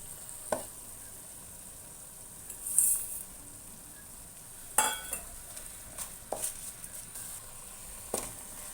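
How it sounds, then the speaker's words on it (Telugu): Onion and tomato paste in a pan for a capsicum, potato and meal maker curry, with a faint low sizzle under sparse spoon scrapes and a few sharp clinks against the pan. "ఉల్లిపాయ పేస్ట్ టమాటా పేస్ట్ చక్కగా వేగాలి"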